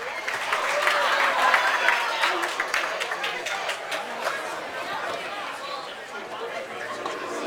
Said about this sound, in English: Give yourself one more big round of applause for coming out to the Wachusett Village Inn